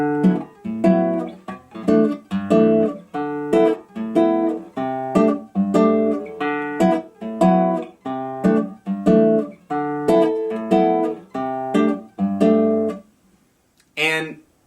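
Acoustic guitar plays a bossa nova rhythm on a C6/9 chord, with steady syncopated strummed and plucked chord hits repeating evenly for about thirteen seconds, close and alone, ending with a brief bright scrape.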